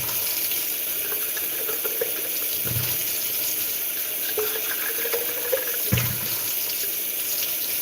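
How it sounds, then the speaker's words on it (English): Water pours steadily from a kitchen tap into a sink while breakfast is being made, a continuous close hiss with a few soft thuds and clanks of dishes, no one speaking. "I know the water is on, but I gotta turn it on."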